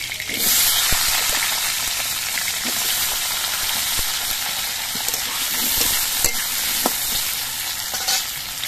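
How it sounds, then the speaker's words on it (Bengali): Potatoes fry in hot oil, a dense, loud, continuous sizzle broken by scattered sharp pops and crackles, with no voices. "এবার এই তেলের মধ্যে আমি আলুগুলো ভেজে নিচ্ছি"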